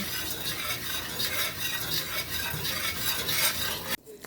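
Flour being stirred and toasted in a dry pot until golden for Oreo polvoron, a continuous gritty scraping and shuffling of the spoon close by, ending abruptly just before the finish.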